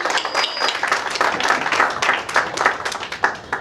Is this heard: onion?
no